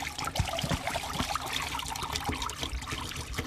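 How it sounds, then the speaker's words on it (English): Hot water pours and gurgles out of a bottle into a sink, a continuous splashing trickle with irregular glugs, close and moderately loud, with no voices. "Now dump the hot water out"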